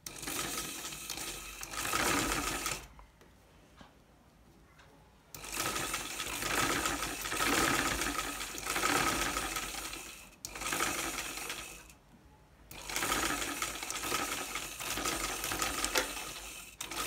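A sewing machine stitches a zip onto a kameez neckline in three long, steady runs of rapid mechanical whirring, separated by short pauses, close and loud with no talking.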